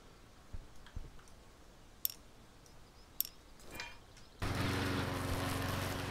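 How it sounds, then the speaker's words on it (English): A grass trimmer in the video game Airport Renovator starts up after a few scattered clicks and ticks, then runs with a steady, buzzing motor drone close by. "mowing with your new grass trimmer will be a lot of fun"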